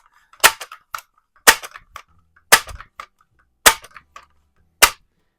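Barra 1866 .177 multi-pump air rifle fired in a garage, five sharp, loud cracks spaced about a second apart, each followed by a short metallic rattle.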